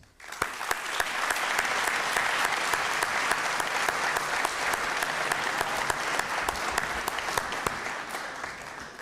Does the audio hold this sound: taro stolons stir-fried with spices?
no